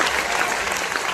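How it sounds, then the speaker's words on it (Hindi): Audience applause at a UPSC teachers' meetup in Patna, a dense, steady wash of clapping hands filling the hall, loud and continuous without a break. "तालियां हो जाए एक बार यार"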